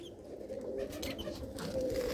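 Farm-kept pigeons and other birds in an aviary give a soft, continuous cooing at moderate distance, with no one speaking.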